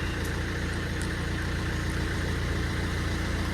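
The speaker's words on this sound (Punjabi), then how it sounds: "ਟਰੈਕਟਰ ਸਟਾਰਟ ਹੋ ਗਿਆ ਹਨਾ ਟਰੈਕਟਰ ਵਾਲੀ ਆਵਾਜ਼ ਨਾ" A tractor engine idles after starting, a steady, continuous low rumble that holds unchanged and close by, with no voices.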